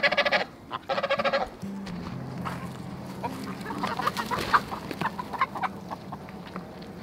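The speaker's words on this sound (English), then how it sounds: "I'm gonna try to feed the geese" Geese in a garden at feeding time give loud honking calls in two bursts at the start, followed by lower murmuring and clucking from the flock, close by.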